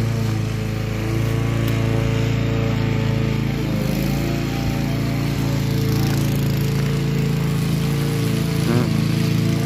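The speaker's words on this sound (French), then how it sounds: "Elle est efficace quand même, la petite tondeuse." A small lawn mower runs continuously at a steady, droning pitch, loud and close throughout with only slight wavering in the engine note.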